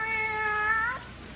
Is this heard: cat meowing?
yes